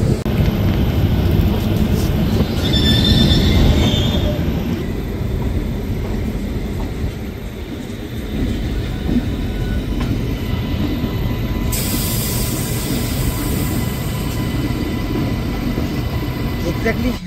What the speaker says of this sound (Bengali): এখন এই মুহূর্তে আমাদের ট্রেন মালদা ক্রস করে চলে গেল